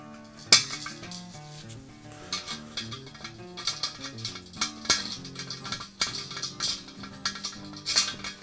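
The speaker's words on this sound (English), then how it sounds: "I'm going to add on my acorn nut." Small metal clinks as an acorn nut is fitted onto a Slow 'N Sear travel grill kettle during assembly, a few sharp taps over steady background music.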